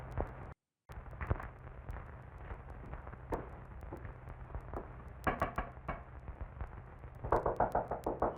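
A door knocker raps on a wooden door in an old monster film, with faint isolated taps followed by two bursts of quick, rhythmic knocks over a hissy background.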